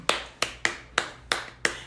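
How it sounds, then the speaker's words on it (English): Six sharp finger taps spaced at a steady, song-like rhythm, each a crisp close transient on a quiet background with no voices, tapping out a birthday tune. "David, you can just tap it out with your fingers."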